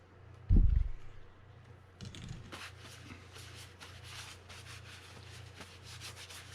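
Dry grease is rubbed onto the drag plate of a Shimano Tiagra 80W fishing reel, making soft, repeated close-up scrubbing strokes after a single dull thump.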